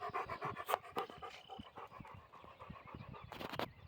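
A Labrador, wet and overweight, pants hard and rhythmically after a 1.5-mile walk, the quick breaths close and steady, with paws or claws tapping now and then.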